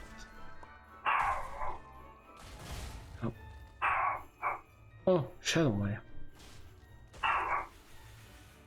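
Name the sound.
speaker's small dog barking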